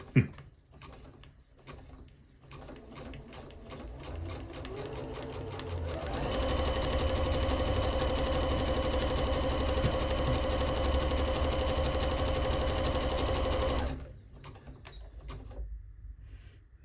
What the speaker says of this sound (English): Last part I'm going to do full width.